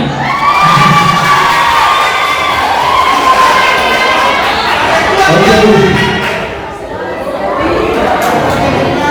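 A large crowd cheers and shouts loudly and continuously at a university faculty awards closing ceremony, with excited voices and whoops filling the whole stretch, dipping briefly before swelling again.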